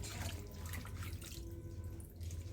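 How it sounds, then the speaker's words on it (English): Vegetable leaves are rinsed in a basin of water, giving a steady, fairly faint splashing and trickling wash with no talk. "I have to make sure that the leaves are properly washed."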